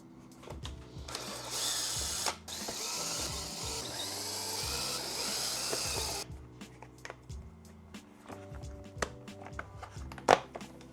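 A tool works out screws from an Exway Ripple electric skateboard, giving a dense mechanical whirring and clicking for several seconds, then scattered quieter clicks and taps, close and alone.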